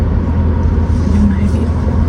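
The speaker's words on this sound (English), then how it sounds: "I'm gonna have to back up to park." A car backs up to park in a parking lot, giving a steady, loud low engine rumble throughout the whole stretch, with no clear talk over it.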